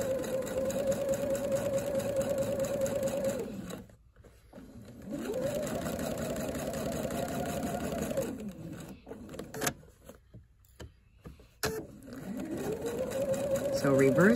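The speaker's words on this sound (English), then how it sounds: "we're going to stitch directly on the line" A sewing machine stitches appliqué on the line at a short stitch length, its steady whirring motor running in several long stretches broken by pauses, with a few clicks between runs.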